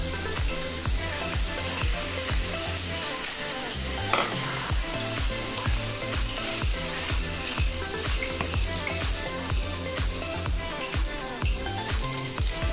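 Macaroni tipped into a pan of tomato and onion masala frying until brownish, for an Indian-style pasta; a steady loud sizzle runs throughout, with stirring scrapes and a brief clatter near the four-second mark.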